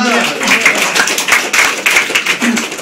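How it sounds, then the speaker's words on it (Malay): An audience breaks into clapping, a steady patter of many hands sustained for a few seconds, with a voice carrying over the applause. "bagi satu tepukan"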